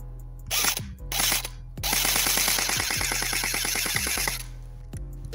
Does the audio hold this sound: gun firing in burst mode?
yes